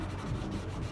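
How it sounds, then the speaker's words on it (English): A PVC pipe end is rubbed on fine sandpaper, making a soft, steady, close-up scratchy rasp with no pauses. "just give it a little bit of a rub up and down on sandpaper."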